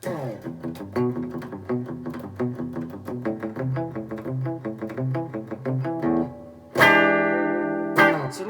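Clean electric guitar plays a busy picked pattern bathed in spacious reverb, ending with two bright strummed chords that ring and decay.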